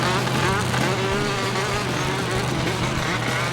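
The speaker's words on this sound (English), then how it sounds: "That's not normal for an engine to sound like." Buzzy, whining car engine from the PS2 game Jimmy Neutron Jet Fusion, racing in the Asian Village level, droning continuously and loudly with wavering pitch alongside other game sounds.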